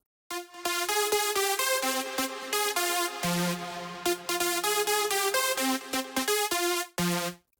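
Lead Pyron synth lead with a shortened release, playing a bouncy melody of crisp, tightly cut notes with a few held tones, loud and clean with no reverb or delay, no voices.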